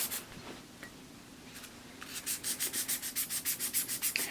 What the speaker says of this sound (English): get all the sap and rust off our primary bevel just by sanding it by hand